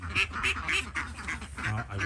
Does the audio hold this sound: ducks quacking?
yes